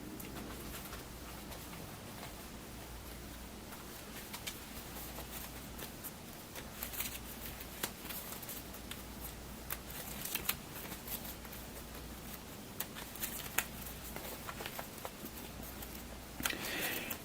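Playing cards being shuffled at a tabletop hockey game, quiet repeated papery riffles and soft patter with occasional sharper flicks over a faint background hum.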